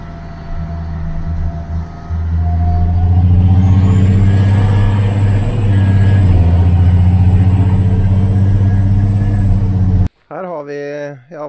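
A 1982 BMW E28 car, once found abandoned in a forest on Smøla, heard during a ride: a loud, steady low engine drone that swells as it accelerates, ending abruptly with voices talking.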